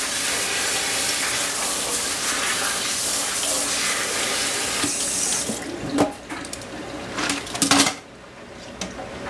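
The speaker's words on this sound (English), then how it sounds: "I'm going to run my water through the strainer with my spray hose." Water from a spray hose runs steadily and loudly through a strainer of cranberries, a continuous hiss that breaks into uneven splashes and stops near the end.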